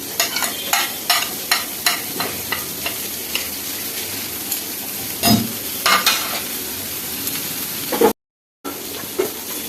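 Turmeric powder, chopped chilli and coriander leaves fry in a pan with a constant crackling sizzle, broken by several loud spatula scrapes and knocks as the mix is stirred, then a brief dropout near the end.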